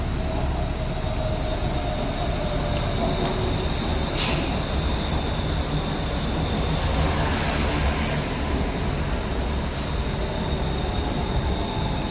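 A Bangkok skytrain switches tracks at Samrong station, with a loud, continuous rumble of rolling rail cars, a brief hiss of air brakes partway through, and faint wheel squeal throughout.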